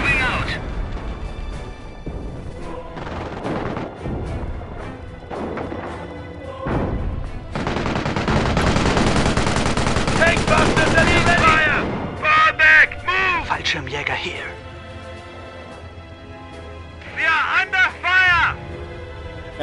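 Gunfire and explosive bursts in Company of Heroes, a World War II strategy game battle around Oosterbeek, with a dense, loud stretch of heavy shooting and booms mid-clip amid scattered shots, under intermittent game voices.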